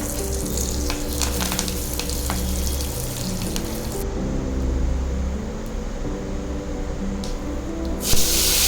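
Curry leaves dropped into hot oil hiss and sputter loudly, with a spray-like crackle that stays steady and then briefly flares near the end.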